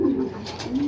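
Racing pigeons arriving at the loft after a 130 km training flight, with a pigeon cooing close by in two short low coos, plus faint rustling in the background.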